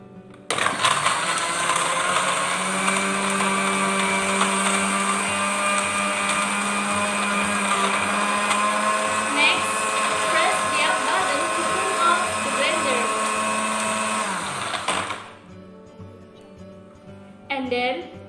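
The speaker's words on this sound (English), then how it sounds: "press the down button to turn on the blender." Electric kitchen blender running steadily at high speed for about fifteen seconds, a loud continuous whirring motor hum, then switching off abruptly and leaving quieter handling sounds.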